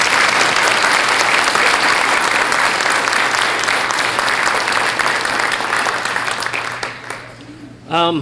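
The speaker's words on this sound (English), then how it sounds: "So if you could give them a round of applause," An audience at a high school National Honor Society and Hall of Fame event applauds the nutrition services staff, loud dense clapping that holds steady and then tapers off near the end as a voice returns.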